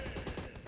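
Rapid gunfire from a mobile shooter game played on a phone mirrored to a PC, a dense burst of close, loud shots with no voices over it.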